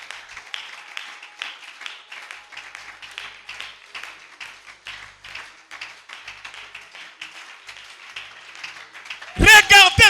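A church congregation claps and cheers at an annual thanksgiving service, a steady run of scattered rhythmic hand claps throughout, ending with a brief loud burst of sound.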